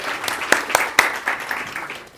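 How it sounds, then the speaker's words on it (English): An audience at an artist-of-the-year award ceremony applauds in a short, loose burst of claps, a few louder individual claps standing out, with voices present in the mix. "A bigger round of applause."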